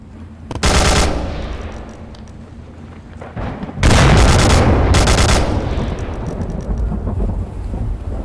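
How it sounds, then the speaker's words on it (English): Grenade blast in the VR shooter Onward, with two loud, booming explosions about three seconds apart, each followed by a long rumbling, crackling tail, and no talking. "And this is how you throw a grenade."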